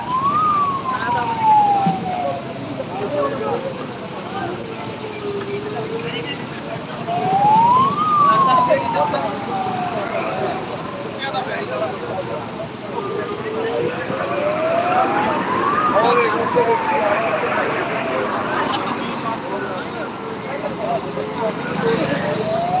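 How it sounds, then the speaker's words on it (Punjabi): A fire brigade truck's wailing siren rises and falls in slow repeated sweeps near a sugar mill fire in Faridkot, sounding from a moderate distance beneath crowd noise and someone talking throughout. "ਫਾਇਰ ਬ੍ਰਿਗੇਡ ਵਾਲੀ ਇੱਕ ਗੱਡੀ ਪਹੁੰਚ ਚੁੱਕੀ ਆ"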